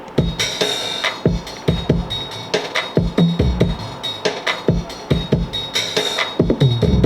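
A steady drum beat loops alone, punchy kicks and snare hits with crisp hi-hats ticking in a regular rhythm, close and fairly loud.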